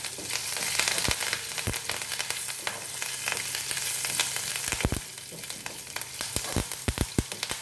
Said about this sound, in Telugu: ఇప్పుడు ఈ పోపు మనం అందరూ తిరగపోసుకుందాం.